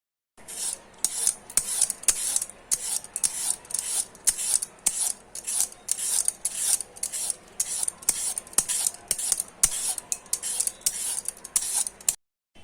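A knife slices through peeled raw mangoes in quick, regular rasping strokes, roughly two or three per second, close and crisp, continuing steadily for about twelve seconds with no talking.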